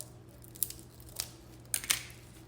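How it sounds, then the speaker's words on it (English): Plain kitchen scissors snip through wreath-making craft material, four sharp, separate cuts spaced irregularly, close and crisp against a low steady hum. "So I am using some plain old kitchen scissors."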